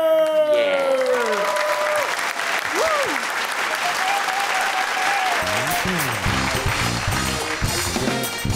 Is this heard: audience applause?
yes